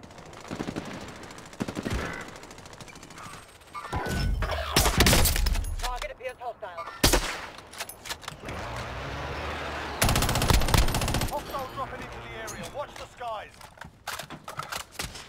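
Gunfire in Call of Duty Warzone: rapid bursts of automatic fire and sharp shots, some loud and close and others quieter, scattered across the scene with brief gaps and a voice speaking between them.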